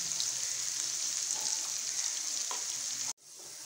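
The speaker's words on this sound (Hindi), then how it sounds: "ऑयल अच्छे से गर्म हो गया, अब इसमें प्याज डाल देते हैं और प्याज को हम ब्राउन कलर देंगे।" Onions frying in hot oil for a Punjabi karhi pakora, a steady bright sizzle that holds close and loud for about three seconds, then cuts off sharply and resumes more quietly.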